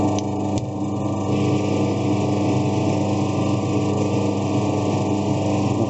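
A metal lathe runs steadily with its feed engaged while threading a double-start 2 mm pitch thread 1 mm deep: a constant, fairly loud mechanical drone with a single sharp click near the start.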